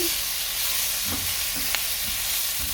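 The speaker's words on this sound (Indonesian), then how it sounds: "Setelah udangnya dimasukkan lalu tumis" Shrimp stir-fries in a pan with a continuous close hiss of hot oil. A few faint spatula scrapes and one small click rise above the sizzle.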